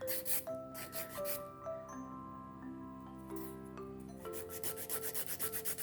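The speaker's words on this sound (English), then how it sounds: "I'm done filing these" A nail file rasps over acrylic nails in quick, rhythmic strokes, faint and close, with background music playing throughout. The strokes pause in the middle of the passage and then resume.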